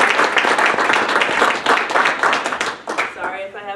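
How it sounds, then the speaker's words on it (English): Applause and clapping from a small audience at a KIDS Center presentation, dense and steady for several seconds before thinning out, with voices mixed in underneath. "applause for Kim"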